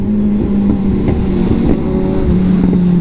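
A Kawasaki ZX6R motorcycle engine runs loud and close, its exhaust droning with a steady tone and several short pops and crackles breaking through.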